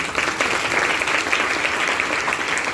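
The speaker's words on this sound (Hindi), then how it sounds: "एक बार जोरदार ताली" A crowd applauds steadily, with many hands clapping in a dense, continuous patter that holds at the same level throughout.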